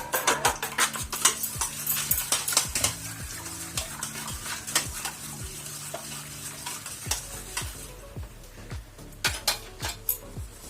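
Egg beaten with salt and pepper for chicken cutlets, a fork or whisk striking a bowl in a fast, steady run of sharp clinks for about ten seconds, close and clear with no voices.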